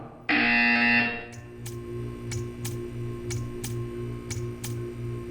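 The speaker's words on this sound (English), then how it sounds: "You will hear a buzzer." A loud electronic buzzer in the video game Portal 2 blares for about a second, followed by a rapid series of regular ticking clicks over a steady hum.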